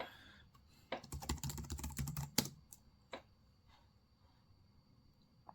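Quick bursts of keystrokes as a password is typed on a computer keyboard, a dense run of clicks followed by a few isolated taps and a final sharp key press, close and fairly quiet with no talking.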